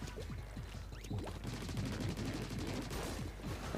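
Rapid-fire shooting in the Splatoon video game: a close, steady stream of staccato gunfire pops, rattling continuously like a machine gun under low background game sound.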